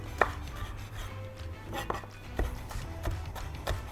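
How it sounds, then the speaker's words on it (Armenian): Garlic being finely chopped with a knife on a board while preparing manti, giving a steady run of crisp close knife taps at irregular intervals with no talk. "ես կարամ մի քիչ իրեն ջզմեմ, որպեսզի իր համեմունքը ստանամ ու շատ մանր կտրատեմ"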